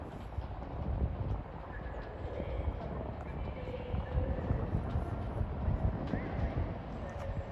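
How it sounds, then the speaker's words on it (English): Northern train arriving at Crewe station, a low rumbling roll of wheels on track with faint squeals and clatter, moderately quiet and steady amid station ambience. "Incoming now will be a terminating northern service from Manchester Piccadilly."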